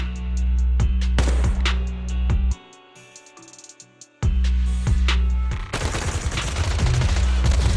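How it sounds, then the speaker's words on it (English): Bursts of rapid gunfire crackle in the game Zenless Zone Zero, loud and layered, with a brief lull midway before heavy suppressive firing resumes. "Gunfire? This pattern. Suppressive marching fire."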